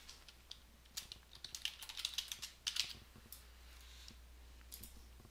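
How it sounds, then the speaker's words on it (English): Fingers type on a computer keyboard in quick irregular bursts of light clicking keystrokes, close and fairly quiet, with short pauses between runs and a few isolated taps near the end. "Type the new name, then click the Save button."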